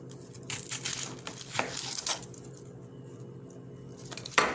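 Papery outer skin being peeled from a halved onion, soft crinkly crackles and squishy rustles close up in short irregular bursts, with no talking.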